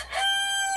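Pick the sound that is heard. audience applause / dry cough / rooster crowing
rooster crowing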